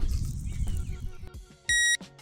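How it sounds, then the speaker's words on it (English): Carp fishing bite alarm at a field pond switched on, giving a single sharp electronic beep of about a quarter second near the end, after rustling handling noise up close. "the alarm is now on, so I've just got to wait for the bites to come"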